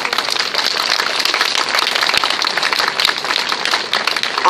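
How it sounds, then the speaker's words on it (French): A crowd at an outdoor antifascist gathering applauds warmly for the Senegalese tirailleurs, a loud, dense and continuous roar of clapping that holds steady throughout with no talk. "je vous demande d'applaudir chaleureusement les tirailleurs sénégalais"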